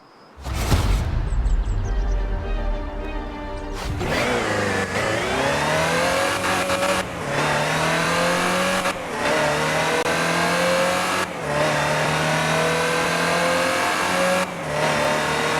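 A Land Rover Type 3 engine in Forza Horizon 4 starts with a loud burst, then revs and climbs through repeated gear shifts, each pull rising in pitch before dropping, steady and close with no talking.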